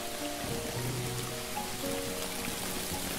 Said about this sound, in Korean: 갑자기 빗방울이 몇 줄이 보이더니 비가 내리기